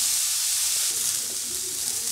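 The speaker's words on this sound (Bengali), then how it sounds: "গাজরটা প্রায় আমি 5 মিনিট মতো ফ্রাই করেছি" Grated carrots fry in a pan for carrot halua, giving a soft, steady sizzling hiss for a couple of seconds.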